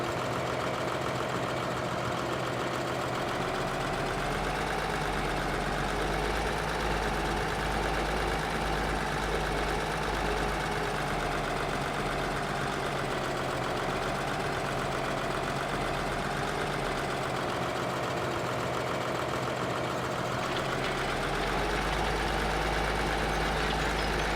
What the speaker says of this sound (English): Sounds for the cultivator much better. You guys can hear it over the sound of the tractor.